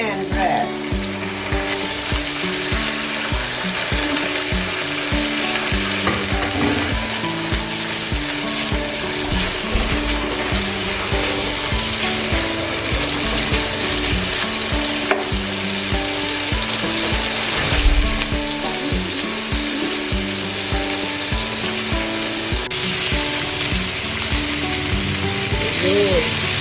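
White onion frying in a pan for sotanghon guisado, a loud continuous sizzle with a steady crackle and occasional stirring noises, while music or other tonal sound plays underneath.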